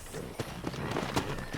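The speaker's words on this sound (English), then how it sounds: "let's see if you can still ride a horse" Horse hooves clip-clopping at a riding pace in the Red Dead Redemption video game, a handful of distinct hoofbeats over a low ambient bed, with voices talking through it.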